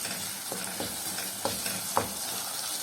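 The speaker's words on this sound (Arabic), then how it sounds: "اديها تشويح تاني فيها كده" Chicken gizzards and onion stir-fried in a pan, a steady close sizzle broken by a few sharp scrapes and clacks of a utensil against the pan, with no talking.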